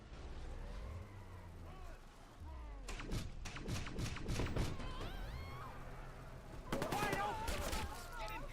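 Gunfire in the game Watch Dogs: a run of sharp, loud shots bursts in clusters across the middle and end, with thuds and other game sounds in between, while someone talks over it.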